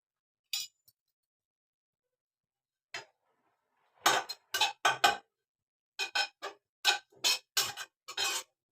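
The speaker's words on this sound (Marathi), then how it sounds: "ते मी खोबरं भाजून घेते." Grated coconut is roasted in a pan for chickpea and jaggery laddoos. A utensil stirs it with scattered clinks and scrapes, first sparse and then in quicker bursts.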